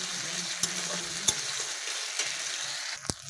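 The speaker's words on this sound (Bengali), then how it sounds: "কাঁচা লঙ্কা, জিরে বাটা। ভালোভাবে কষিয়ে" Onion, green chili and cumin paste sauté in hot oil with a close, constant sizzle, broken by a few sharp scrapes and taps of a spatula against the pan.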